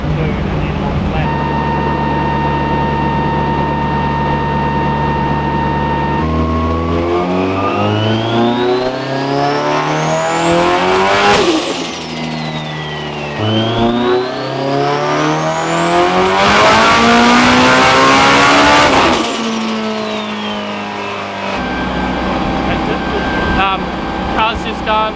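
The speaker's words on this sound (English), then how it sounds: "Car's just done a few pulls now on pump fuel. It's making phenomenal power." Turbocharged Honda F20C engine in an S2000 drift car revs hard through repeated pulls on pump fuel, loud rising and falling engine tone with sharp climbs to high revs, a steady whine running beneath, alone without talk.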